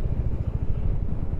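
A Royal Enfield Hunter 350 motorcycle thumps along on a ride, a loud, low, pulsing single-cylinder engine note heard close up for a brief moment.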